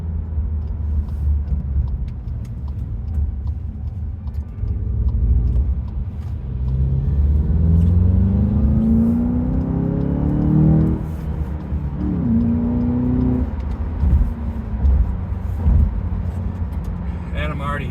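A 2022 VW GLI with a 2.0-litre turbo engine and six-speed manual transmission accelerates, its engine drone heard from inside the cabin climbing steadily in pitch, dropping, and rising again as it pulls through the gears.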